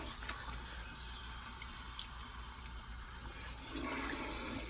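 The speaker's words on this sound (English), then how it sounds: "So make sure that you are really rinsing really," Water runs steadily from a tap while shampoo is rinsed out of hair extensions, a continuous close rushing and splashing that holds for several seconds.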